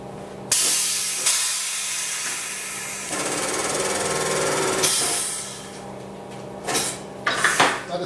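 Butler 1050 airdraulic tyre changer pressing down to break a tyre bead, releasing a loud sustained hiss of compressed air for several seconds, followed by shorter bursts and clanks near the end.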